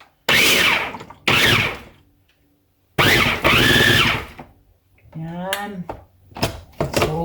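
A kitchen blender grinds kitchen scraps into garden fertilizer, running loud in several short bursts separated by pauses, with a brief squealing, whining passage near the end.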